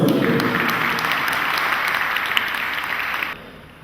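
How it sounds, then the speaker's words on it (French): Applause from an audience at an Afro-Caribbean beauty pageant in a Paris town hall, a dense, steady wash of many clapping hands that carries on evenly for several seconds before cutting off abruptly near the end. "on les applaudit une nouvelle fois"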